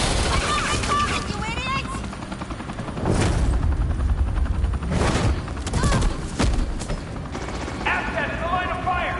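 Gunfire in the Telltale game Batman: The Enemy Within, with bursts of shots and booms mixed with whirring machinery noise, loud and close, while voices shout over the action.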